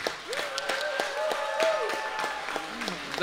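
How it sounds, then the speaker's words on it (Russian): Concert audience clapping for a musician at a live world-music show, brisk separate claps running under a voice as he speaks. "Ну и, конечно, аплодисменты мастеру Имраму."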